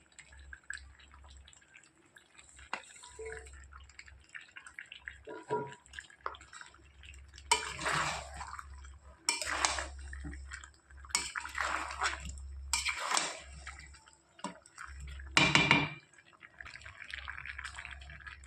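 Hot water poured into a pot of chicken curry with fried potatoes: several bursts of splashing and pouring, close and moderately loud, separated by quieter drips and clinks of kitchen utensils.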